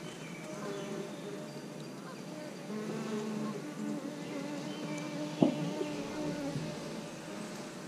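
Honeybees buzz in a hive box holding a queen cell, a low, steady droning hum from many insects close by, with a brief knock partway through.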